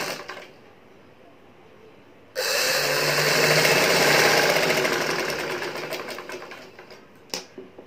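A sewing machine stitches kurti cloth in a sustained whirring run of about five seconds, starting abruptly after quiet, loud and close, then slowing and stopping.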